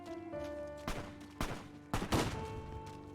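Gunfire in Fallout New Vegas, four or five sharp shots at irregular intervals over a low background hum and tones, moderately close and fairly quiet overall.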